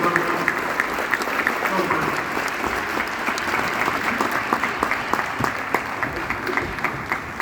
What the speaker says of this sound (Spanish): Le pido un aplauso gigante, por favor